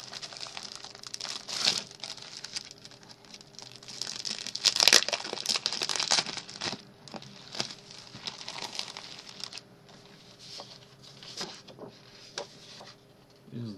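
Sheets of matte and glossy photo paper being handled indoors, giving repeated crinkling and rustling bursts of varying loudness, with a sharper crackle midway and quieter shuffling toward the end.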